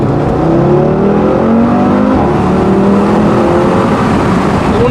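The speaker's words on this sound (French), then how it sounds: "Donc là je vais accélérer" An Audi RS3 sedan with a 400 hp five-cylinder engine accelerating hard from about 30 km/h in second gear, a loud continuous growl rising in pitch through the revs, heard close from inside the car.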